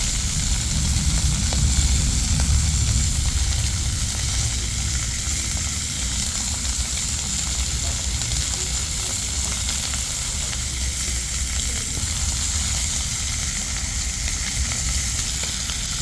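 Pieces of pork grill in a pan over a fire with a loud, steady sizzle and hiss that lasts the whole time. No voices are heard.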